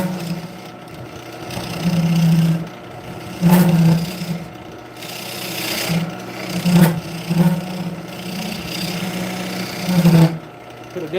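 A skew chisel cuts wood on a lathe, giving a steady droning whir with recurring scraping surges as the edge bites, close and fairly loud.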